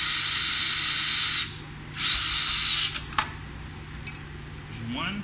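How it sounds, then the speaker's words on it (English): A cordless power screwdriver backs out the bridge pickup screws on an electric guitar being taken apart, with two loud close whirring bursts followed by small clicks and rattles of loosened parts. "I'm going to go ahead and unscrew the ones for the bridge pickup"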